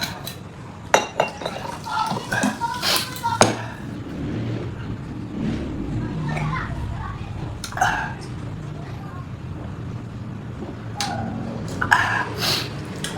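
Dishes are washed in a kitchen after cooking carbonara: scattered clinks of glass, plates and cutlery clatter now and then amid running background noise, with people talking and laughing throughout.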